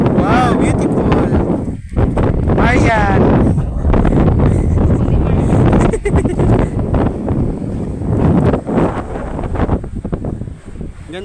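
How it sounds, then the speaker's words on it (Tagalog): Strong wind at the seaside buffets the microphone in a loud, steady roar throughout, with several people talking over it. "Lakas ang hangin oh."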